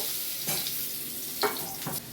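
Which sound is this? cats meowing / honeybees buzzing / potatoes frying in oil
potatoes frying in oil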